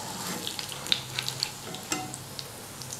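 Lentil chapli kababs fry in a pan on a medium flame, giving a soft, steady sizzle with scattered light pops and crackles throughout, no voices present.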